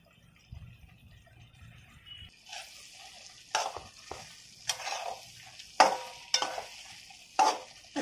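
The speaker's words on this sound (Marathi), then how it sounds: "आता आपण एक एक करून वांगी घालूयात." Brinjal pieces dropped one by one into sizzling masala in a pan, quiet at first, then bursts of frying hiss and stirring scrapes recurring in uneven pulses, close and moderately loud.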